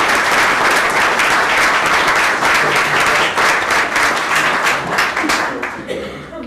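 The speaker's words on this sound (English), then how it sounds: "give yourselves a hand of applause" An audience at a sideshow gathering roast breaks into loud, sustained applause, with dense clapping and scattered cheers that carry on steadily before fading out at the end.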